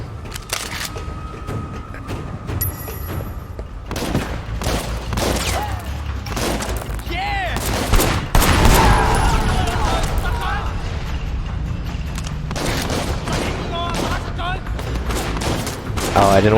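Gunfire in the video game Sleeping Dogs Definitive Edition: bursts of rapid shots and impacts crackle loudly and repeatedly throughout, with someone talking over the action.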